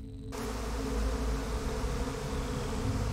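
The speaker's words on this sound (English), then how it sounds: "Want me to kill those bees?" Bees buzz steadily in Psychonauts 2, a dense swarm drone that cuts in sharply after a brief quiet start and holds loud and close to the end, with no voices over it.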